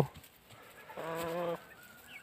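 Young Brahma chickens, about three months old, give a short honking, goose-like call lasting about half a second, heard alone against a quiet background with faint scratchy noise around it.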